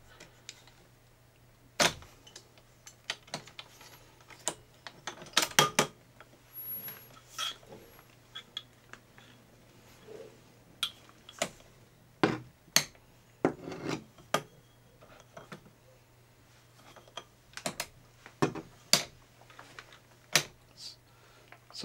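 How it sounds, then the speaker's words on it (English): A Roadrunner SE folding handlebar mechanism being worked by hand: scattered sharp clicks, taps and rubbing scrapes, quiet between, with a few louder metallic knocks. "I'm going to test the folding mechanism to see if it's where I like it to"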